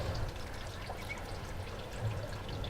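Tap water pours and trickles steadily into the footwell of a Land Rover Discovery 2, a continuous close splashing stream with no talk over it.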